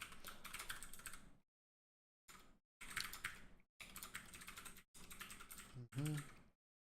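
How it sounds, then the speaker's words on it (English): Fast typing on a computer keyboard comes in bursts of rapid clicking separated by short pauses, close and crisp, with a murmur of speech near the end. "as I start typing this"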